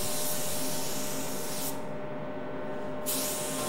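A spray gun lays sealer onto a car during custom painting, a loud continuous hissing spray that briefly thins in its top end midway before returning to full force.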